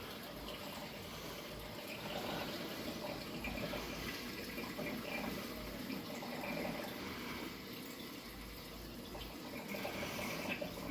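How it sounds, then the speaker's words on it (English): Continuous splashing and gurgling of water running into a 15-gallon fish tank, steady and fairly close, with a slight trickling texture and no voices. "This is a 15-gallon tank that's filling up pretty quick."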